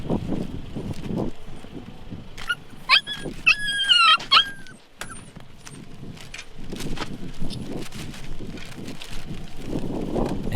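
A rescued dog, one of five puppies found near garbage bins, gives high, wavering whimpers and cries in a short burst midway through, set against rumbling wind noise and handling sounds with no talk.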